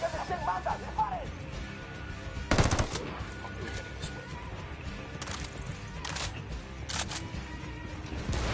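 Gunfire in Ghost Recon Wildlands, heard as a few scattered sharp shots at irregular intervals over a steady bed of game ambience, with one louder report standing out early.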